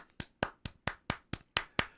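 Nine sharp hand claps in a quick, even rhythm, close and distinct, with nothing else heard between them.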